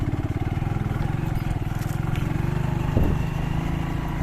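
A habal-habal motorcycle with a carburetor problem labors up the mountain road at Mt. San Isidro, Labrador, Pangasinan. Its engine throbs loud and close in a steady, rough chugging, with a brief clatter near the end.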